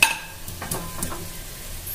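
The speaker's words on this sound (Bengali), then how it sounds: "ঝোল ফুটে গেছে, এবার আমি ভেজে রাখা আলু দিয়ে দিব।" Fried potatoes tipped into a simmering curry in a pan and stirred, with a few scraping clinks of utensil on metal over a soft bubbling background, close and moderate, no talking.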